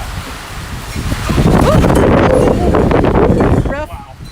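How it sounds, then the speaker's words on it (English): A big gust of hurricane wind roars in over steady blustery noise, swelling louder midway and buffeting the microphone, with faint rustling throughout and no clear speech. "Ooh, big gust of wind."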